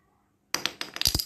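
A wooden block is dropped onto the floor and lands with a sharp clack, then bounces and rattles a few times in quick succession before settling, close by and alone.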